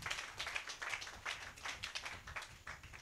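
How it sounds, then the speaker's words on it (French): A church congregation claps in praise, a fairly faint, uneven patter of many hands that keeps going throughout. "Donnez une main d'acclamation au Seigneur."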